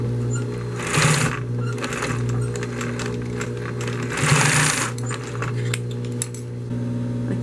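Sewing machine stitching another seam on a man's shoulder bag with a zipper: loud, close, steady mechanical whirring hum with rattling needle ticks, rising in two brief faster bursts, no voices.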